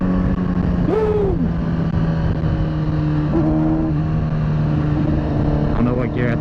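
A freshly built 2005 Kawasaki ZX-10R sportbike engine pulls hard on a ride, its rising and falling engine tone loud and steady under strong wind noise, with a rider's voice partly mixed in.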